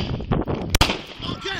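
A police officer fires a single sharp gunshot at close range during a knife confrontation, a loud instant crack standing out between tense shouted commands.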